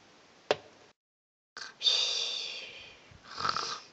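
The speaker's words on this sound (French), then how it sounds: "Mais c'est qu'elle ronfle fort, elle!" A woman snores loudly in a French reality-TV setting, a sharp snort followed by a long rasping breath and another rough snore after a brief silence.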